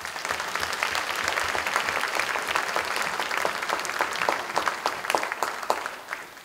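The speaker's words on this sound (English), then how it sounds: "So a round of applause for them." Audience applause for Wayne County, West Virginia all-county band students at a concert, a dense steady wash of many hands clapping that swells slightly, then tapers toward the end.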